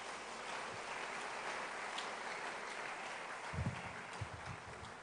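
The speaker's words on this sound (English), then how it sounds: "A round of applause once again." Audience applause in a large hall after a professorial inaugural lecture: a dense, steady wash of clapping that carries on for several seconds before thinning out, with a few low thumps near the end.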